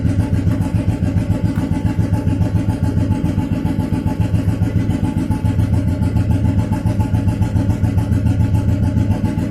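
A cast iron Royal Enfield 350/500 single-cylinder motorcycle engine runs steadily while warming up, a loud, close, even thumping pulse throughout with no talk.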